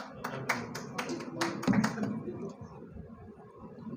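A small audience claps to welcome a poet to the stage at an Urdu poetry gathering, a quick run of sharp, sparse claps that thins out and fades after a couple of seconds, with talking mixed in.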